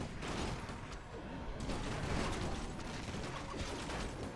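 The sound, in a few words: rifleman gunfire in Warcraft 3 video game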